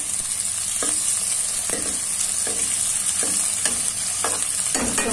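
A large onion frying in oil in a kadhai, a loud continuous sizzle broken by regular stirring scrapes about every half second.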